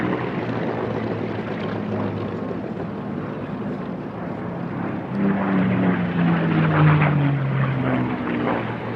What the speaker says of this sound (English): every time these guys go by, I think we're the winners getting to hear these beautiful Packard Merlins and Allison engines out here today